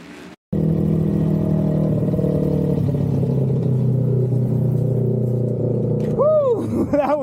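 Harley-Davidson XR750 flat track motorcycles racing a tight heat at the Ventura American Flat Track National, engines roaring loud and steady after a brief gap, with a rising and falling pitch sweep near the end.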